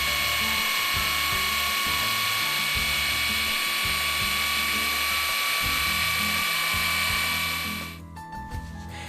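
An electric drill fitted with an 8 mm bit runs steadily with its trigger held down, a loud continuous whine with a low rhythmic mechanical churn beneath it, then winds down at the end.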